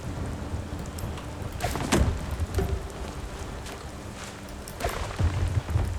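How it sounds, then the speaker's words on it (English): Steady rain pours throughout a night thunderstorm in a cozy house renovation video game, with deep thunder rumbling and cracking a couple of times in the background. "It is very dark. It's night time, raining,"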